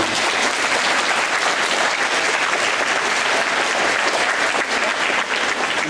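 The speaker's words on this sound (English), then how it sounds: "A round of applause." A school audience at Sugarloaf Senior High in Campbellton, New Brunswick applauds torch bearers, loud dense continuous clapping filling the hall steadily without a break.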